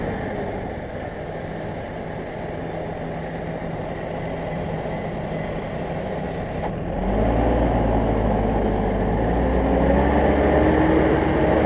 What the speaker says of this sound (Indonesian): Oh, ada truk.